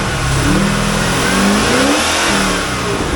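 A 1998 Chevrolet Corvette C5 with an LS1 V8, 159,000 miles and four mufflers, running at a wrecking yard, a loud close exhaust rumble rising and falling through a couple of revs.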